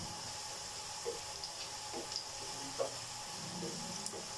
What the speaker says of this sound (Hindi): अब मैं इसमें ये 1 टीस्पून साबुत ज़ीरा और 10 से 12 काली मिर्च डाल रही हूँ साबुत।